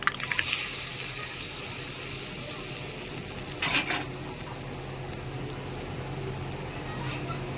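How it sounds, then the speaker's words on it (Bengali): Hot tadka tempering is poured into ground coconut chutney, a loud hissing sizzle at first that settles into a steady, fainter crackle with one brief burst midway, no voices. "এর উপর থেকে আমি একটা তড়কা দিয়ে দেবো তরকাটা এদিকে রেডি হয়ে গেছে এবার চাটনির মধ্যে ঢেলে দেব"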